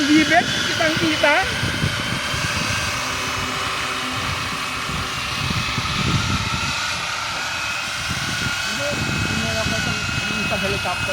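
An EC 145 scale model helicopter runs at UP Field, its steady whining turbine and rotor hum filling the clip at close range while people talk over it.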